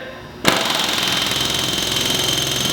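A pneumatic rivet gun starts abruptly and hammers in a fast, steady rapid-fire rattle for over two seconds, loud and close.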